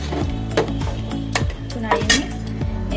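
A spoon scraping and clinking against a metal pot while mutton biryani mixture is stirred, with repeated rhythmic scrapes and knocks close up and no one speaking.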